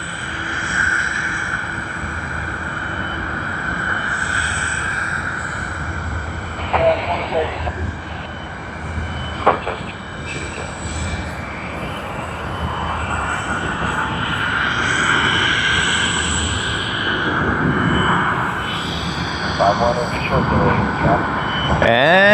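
A Boeing 747 jet at Sydney Airport rumbles and whines in the background at moderate level, with a few brief sharp noises along the way and a voice talking over it for much of the time.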